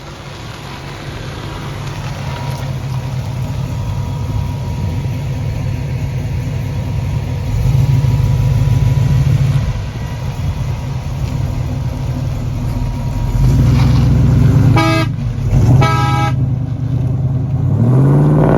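A deep small-block V8 in a Chevrolet Fleetline rumbles steadily, swelling as it revs and settling back, loud and close with no talking.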